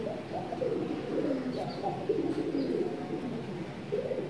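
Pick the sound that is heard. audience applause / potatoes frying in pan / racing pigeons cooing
racing pigeons cooing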